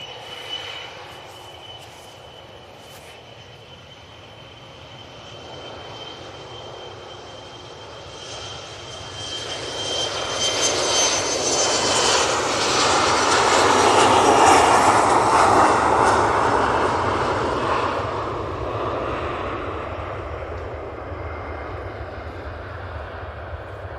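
An airliner taking off from Manchester Airport bound for Inverness, its jet engine roar swelling from a distant rumble to a loud, broad peak midway, then slowly fading as it climbs away, with no one talking.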